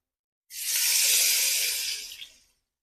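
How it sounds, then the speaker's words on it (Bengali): Water splashes into a pan of spiced potatoes fried in oil, giving a loud burst of hissing sizzle that lasts about two seconds and then fades out. "তো চলো এবার আমি এর মধ্যে একটু জল দিয়ে দেবো"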